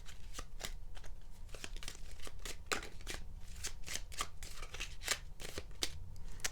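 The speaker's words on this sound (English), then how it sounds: "So let's draw you an Angel Whispers card," Angel Whispers oracle cards are shuffled for a card reading, producing quick, soft, papery riffling flicks in a steady rhythm, close and quiet.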